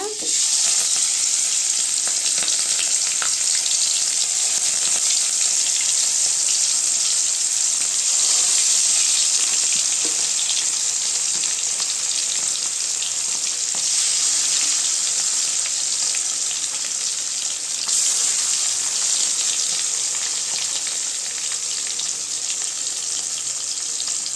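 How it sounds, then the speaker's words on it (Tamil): Sardines frying in hot oil with a sprig of curry leaves, a steady loud crackling sizzle that holds throughout with no talking. "இப்போ எண்ணெய் சூடாயிருச்சுங்க கருவேப்பிலை வச்சுக்கலாம் ஒரு கொத்து இப்போ மீன் எடுத்து வச்சுக்கலாங்க"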